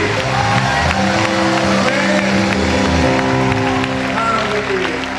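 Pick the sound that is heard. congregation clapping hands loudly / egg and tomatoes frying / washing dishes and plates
congregation clapping hands loudly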